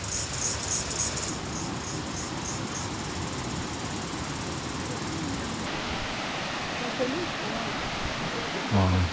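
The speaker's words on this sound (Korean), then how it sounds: "This is the last waterfall." Continuous rushing water from a waterfall in Laos roars as a broad, steady wash of noise, with faint high insect-like chirps early on and a brief voice near the end.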